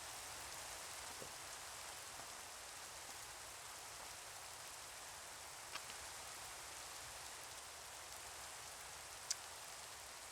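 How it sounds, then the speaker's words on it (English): Steady rain falls in Minecraft with the Axion mod, a constant soft hiss of drops with no break, quiet and even, with a couple of tiny clicks. "I know there's definite ways to make it not rain, but I like the sound it does."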